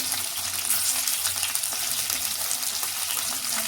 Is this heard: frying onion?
yes